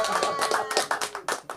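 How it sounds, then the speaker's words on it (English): Scattered clapping from a comedy club audience, a handful of separate claps and short bursts rather than sustained applause, heard fairly close, with a faint voice line running underneath. "Give her a round of applause."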